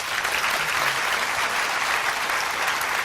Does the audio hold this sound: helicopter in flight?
no